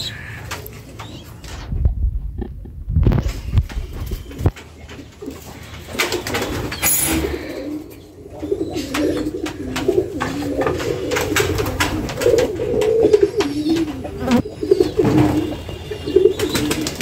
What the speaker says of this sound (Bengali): এই এখানে ঘুঘু আছে